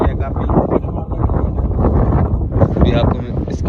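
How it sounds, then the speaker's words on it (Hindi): Strong wind gusts outdoors after dark near a restaurant, buffeting the microphone with loud, rough low rumbling that swells and dips throughout, while a person talks over it. "तेज हवा चल रही है काफ़ी।"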